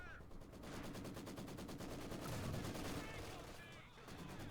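An MG 42 machine gun in Company of Heroes 2 rattles off long, rapid, continuous bursts of fire, steady and dense amid other battlefield noise, with brief gaps between volleys.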